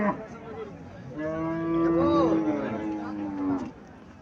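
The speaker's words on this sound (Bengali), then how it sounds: "আকারে ছোট গাভীটা" A long, loud low moo from a small Haryana cow rises and falls across a few seconds, close by, with a short voice at the start.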